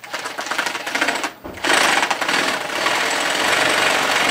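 A carpet binding machine sews binding tape onto a carpet edge with a loud, close, rapid mechanical chatter, briefly stopping once before running on steadily.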